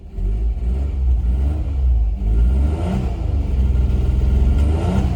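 An early-1990s manual Alfa Romeo 164, bought at auction with coolant problems, runs loud and close, its engine rumbling steadily with repeated revs rising and falling and a rough, uneven edge throughout.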